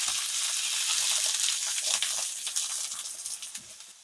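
Onion, carrot and pumpkin frying in olive oil for Jamaican roast fish, a bright steady sizzle that slowly fades with small crackles and a few soft utensil taps.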